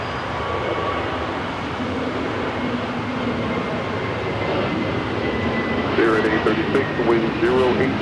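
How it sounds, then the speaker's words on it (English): Viva Aerobus Airbus A321neo jet taking off from the south side runways at LAX, a loud, steady engine roar filling the scene while a voice talks over it, with brief clicks near the end. "Viva Aerobus heading to Monterrey, Mexico, and A321neo flight 623 is the next takeoff here on the south side"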